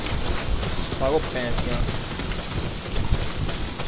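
Steady heavy rain pours down in the open-world game Days Gone, a constant broadband hiss running throughout while someone speaks briefly over it.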